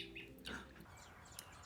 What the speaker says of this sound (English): The baby birds also started to sing. Can you hear their voices?